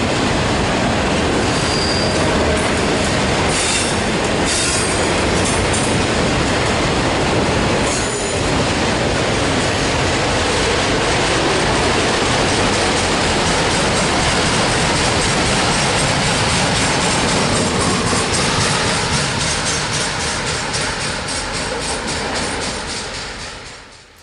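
A CN freight train hauling empty auto racks rolls past close by on the Three Hills Subdivision, loud steady rumble with wheels squealing and rhythmic clickety-clack, fading slightly as the last cars go by.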